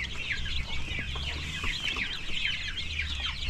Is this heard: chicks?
yes